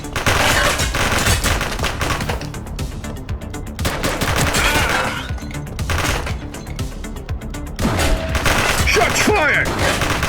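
Rapid bursts of gunfire crack through a police shootout in The Precinct video game, dense volleys in several clusters separated by brief lulls, with shouted voices and other game noises mixed in.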